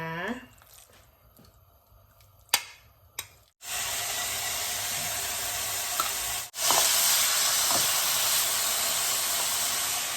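Loud, steady sizzling bursts in suddenly as Australian beef steak hits a hot pan, and keeps hissing with a brief break partway through.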